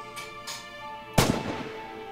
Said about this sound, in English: Don't forget to bolt the rifle after each shot, soldier.